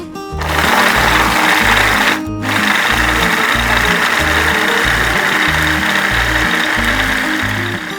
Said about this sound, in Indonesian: Nah, ini akan saya haluskan menggunakan chopper.